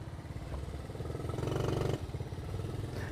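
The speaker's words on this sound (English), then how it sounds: "This next clip is going to be me ramming Joe Sebragandio's little Trail 90 into the pole at the gas station" A small Honda Trail 90 motorcycle engine chugs and revs close by with a rough, pulsing mid-range drone and some clatter, rising briefly before settling, at a gas station.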